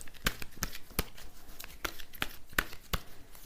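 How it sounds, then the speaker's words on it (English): Oracle cards are shuffled by hand in quick, dry riffling bursts, a series of short crisp snaps and rustles at close range with no talking. "I will shuffle some oracle cards for you"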